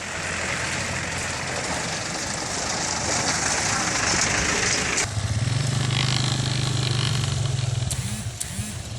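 A motorcycle riding over a damaged, potholed road, its engine droning steadily and loud, then shifting to a lower, rougher note partway through with jolts and rattles.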